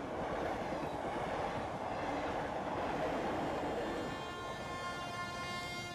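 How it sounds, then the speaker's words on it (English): A train thunders past on the Delhi-Kanpur track, a loud, steady roar of rolling wagons with rhythmic clatter and faint high wheel whine, continuous and close throughout. "The train comes thick and fast"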